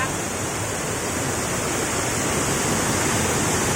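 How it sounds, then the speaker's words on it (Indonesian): The strong-flowing Muara Tuhuk waterfall roaring as a loud, dense, unbroken rush of falling water, close and steady throughout. "air terjun Muara Tuhuk. Sangat deras deh."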